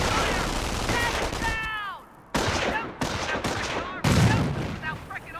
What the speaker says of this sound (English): Your squad is taking enfilade fire from that MG.